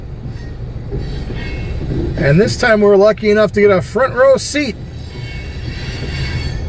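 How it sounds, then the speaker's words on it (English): A freight train rumbles past at close range in Dubuque, Iowa, its steady roll of wheels and cars running throughout while someone talks briefly over it. "And this train just started."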